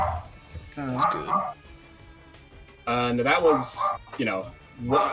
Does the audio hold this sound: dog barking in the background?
yes